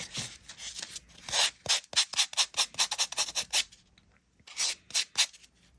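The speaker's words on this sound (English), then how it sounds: "I'm gonna come through with a little polishing block." A small polishing block rubs back and forth over blackened wire on a wire-wrapped crescent moon pendant, making a quick run of close, scratchy rasping strokes with a brief pause in the middle and no talking.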